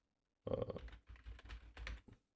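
Quick keystrokes on a computer keyboard patter in a short burst of irregular clicks, close and clear, alone with no voices.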